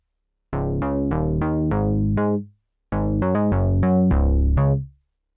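A plucky synthesizer preset from the Super 8 instrument, called Daveland, plays a rhythmic melodic pattern of sharp, decaying notes in two loud bursts separated by a short gap, alone with no voices.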